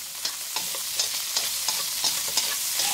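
Loud, continuous sizzling in a pan over medium heat, broken by regular scraping strokes as shrimp is stir-fried, roughly three per second.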